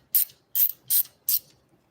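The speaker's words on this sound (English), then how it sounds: "You're going to torque them down to spec." A torque wrench tightens valve adjustment nuts on an engine, giving four evenly spaced crisp ratcheting clicks, close and clear with no talking.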